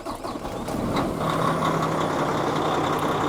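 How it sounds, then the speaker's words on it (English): A loud grain dryer running on a farm, a steady heavy mechanical roar and hum with a constant tonal drone, close and unbroken for the whole stretch. "these dryers are so stinking loud"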